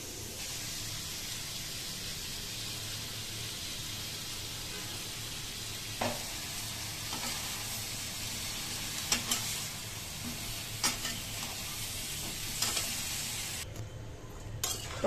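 A tomato, potato and eggplant vegetable curry fries with a steady, hissing sizzle, broken by occasional clinks and scrapes of a spoon stirring against the pot, close and moderately loud.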